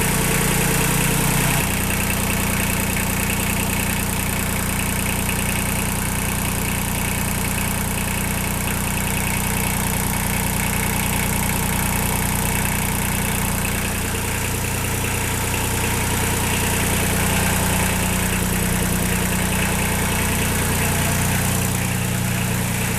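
A Kubota L235 tractor engine idles steadily without revving, a loud, constant close-up rumble with vibration throughout and no talk.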